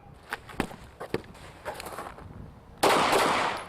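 A blank-firing gun is used in close-quarter combat training: a few sharp, quiet snaps and clicks, then one much louder blast at the end that rings out briefly.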